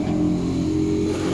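A car engine runs steadily nearby with a low, even revving hum as the vehicle pulls up to have its tires inflated, with no talk over it.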